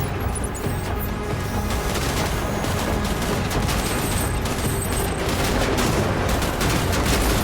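Sustained, loud gunfire in Death Stranding, a dense unbroken barrage of shots lasting throughout, with no speech over it.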